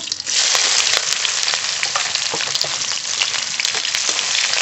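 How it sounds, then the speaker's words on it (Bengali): Chopped onion fries in mustard oil seasoned with bay leaf and whole cumin in a kadai, giving a loud, steady, close sizzle throughout with no talking. "পেঁয়াজটা একটু ভাজা ভাজা করে নেবো"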